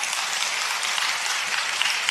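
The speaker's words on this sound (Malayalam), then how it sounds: "ഒന്ന് കയ്യടിക്ക്." Audience applause at a church talk, a steady dense wash of clapping hands filling the room without pause, no voices standing out.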